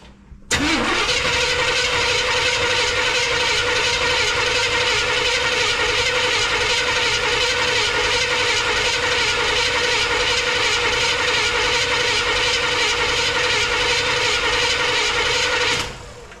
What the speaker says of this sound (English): let's go ahead and try to crank on it